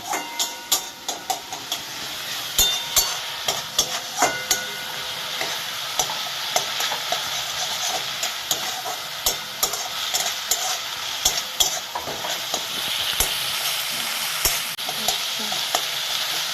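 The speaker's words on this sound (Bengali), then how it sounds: "পেঁয়াজটা ফ্রাই ফ্রাই হয়ে গেল" Onion fries in a pan with continuous loud sizzling and frequent scraping and tapping as it is stirred, close up and with no talking.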